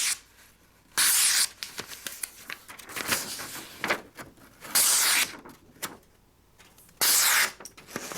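A Marbles Wildlife Collector Series Eagle knife slices through paper in three crisp, rasping cuts, close and spaced a few seconds apart, with no talking.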